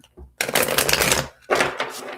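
Dice shuffled for a tarot dice reading, rattling continuously for about a second, pausing briefly, then rattling again in a second burst, close and fairly loud.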